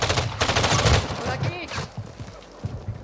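Rapid gunfire in the video game Warzone 2.0, with dense bursts of automatic shots and scattered single cracks over game noise. A voice is heard faintly in the mix.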